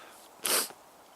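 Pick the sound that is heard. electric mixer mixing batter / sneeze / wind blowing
sneeze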